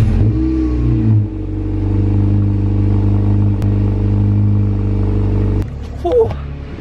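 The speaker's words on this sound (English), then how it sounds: "cold start." Honda car engine on a cold morning start, a loud close steady drone with a slight rise in revs, cutting off near the end, followed by a few small clicks and a brief voice.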